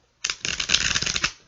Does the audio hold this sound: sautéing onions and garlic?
no